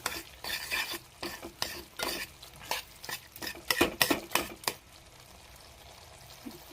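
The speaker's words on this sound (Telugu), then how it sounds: "ఈ గ్రేవీని కొంచెం స్మాష్ చేసుకుని" A spatula repeatedly mashes and stirs egg curry gravy in a cooking pan, with rhythmic scraping strokes and a soft sizzle that die away toward the end; no one speaks.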